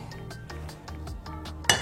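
Metal clinks sound as kunafa pastry is shifted into a saucepan, a quick series of sharp, close knocks and rattles of pot and utensil.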